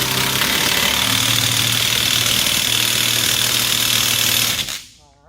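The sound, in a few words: impact wrench tapping on wheel hub axle nut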